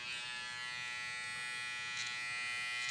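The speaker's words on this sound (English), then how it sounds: "Clipper motor in a trimmer." Close up, a Wahl trimmer fitted with a clipper motor runs at a steady, high-pitched electric buzz that holds level for a few seconds, with no voices.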